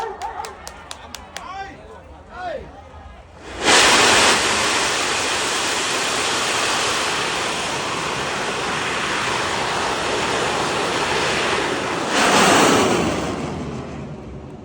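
A bang fai rocket launches at a Thai rocket festival in Na Wiang, Sai Mun. After a countdown it erupts into a loud, sustained roaring hiss that holds steady for about ten seconds, surges again, then starts fading.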